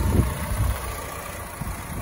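A 2009 Honda Civic LX engine runs at a steady low idle hum close by, with a few soft thumps near the start.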